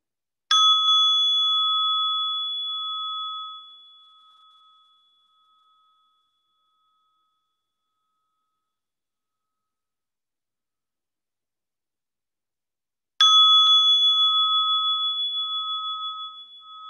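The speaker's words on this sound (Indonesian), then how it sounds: "Suara bel tidak mengubah kesadaran." A bell is struck twice, about thirteen seconds apart. Each strike gives a clear metallic ding that rings on and slowly fades into near silence.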